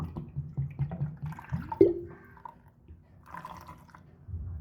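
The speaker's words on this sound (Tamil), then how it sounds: "இதில் தண்ணி கொஞ்சம் ஊற்றிக்கோங்க." A short splash and trickle of water being poured into a vessel while making pomegranate juice, faint and close, with quiet rustling and handling noises around it.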